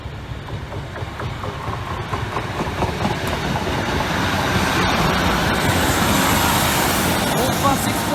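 A Class 156 diesel train rolls past a level crossing, a broad steady rumble with rhythmic wheel clicks building to a louder, closer roar toward the end, with faint voices underneath.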